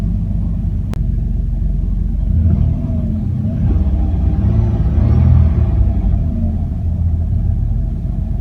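A 2003 Jeep Liberty engine with a crankshaft and camshaft position sensor fault, idling with a loud, steady low rumble, then rising briefly as it is given a light rev.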